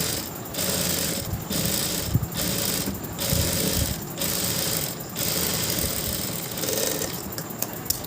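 A sewing machine stitches a waist piece onto a blouse in close, loud mechanical runs, each burst of rapid chattering lasting under a second with short regular gaps between.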